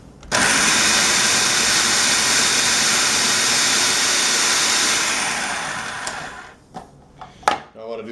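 A blender purees peppers and garlic for matbucha sauce, running loud and constant for about five seconds before winding down, followed by a few brief clatters as it is handled.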